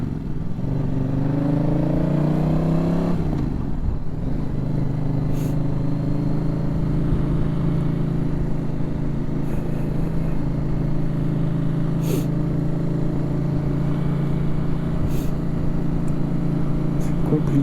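A Yamaha Tracer 7 motorcycle engine heard from onboard drones loudly and steadily, its revs swinging and dropping sharply early on before settling into a sustained, even pull.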